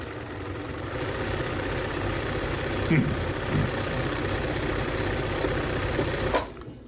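A Bernina 930 Record sewing machine runs slowly and steadily for several seconds, its low mechanical hum close and continuous before it stops near the end.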